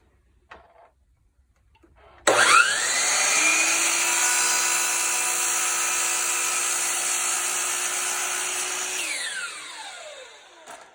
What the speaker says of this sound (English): So you're going to want to do a compound miter on this cut.